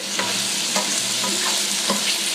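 Pre-cooked shrimp sizzle loudly and steadily in a frying pan, a dense, close hiss with soft rhythmic stirring scrapes.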